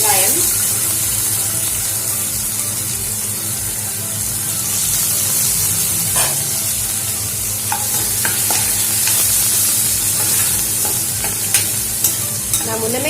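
Onions sizzle loudly in oil with mustard seeds and cumin, making a dense, close frying hiss with steady stirring scrapes and a few sharp clicks toward the end.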